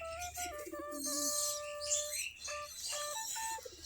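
Native-breed domestic pigeons coo and murmur softly nearby at a loft of about 20 to 25 pairs, with scattered chirps and flutters over a busy background of birds; no talking.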